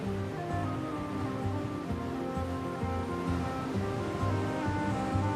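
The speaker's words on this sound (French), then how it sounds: "Cette Méditerranée dont les vagues dessinent et sculptent la côte." Mediterranean sea waves along the Moroccan coast, a continuous wash of surf and rushing water at moderate level, with layered tonal hum running underneath and no talking.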